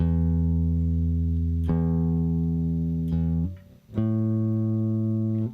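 A sustained, steady guitar note rings out, struck again a few times with brief gaps, as a string is tuned to E; no voices.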